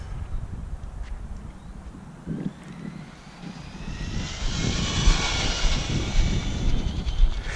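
A Team Associated DR10 drag-style RC car accelerates on a speed run, its electric motor whine climbing into a loud rising whir over outdoor rumble, growing steadily louder and nearer toward the end.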